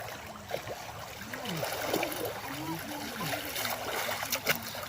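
Steady rushing and trickling water from a waterfall with splashes, a continuous flowing wash close by, in Botolan, Zambales.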